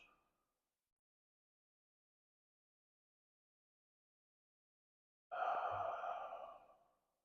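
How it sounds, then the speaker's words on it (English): One slow, deep exhaled breath, close and soft, comes after a long stretch of silence that follows a faint trailing breath at the very start. "Taking good, slow, deep breaths."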